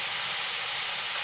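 Mixed vegetables, baby corn and carrot, frying in a pan, giving a loud, unbroken sizzling hiss up close with no voices.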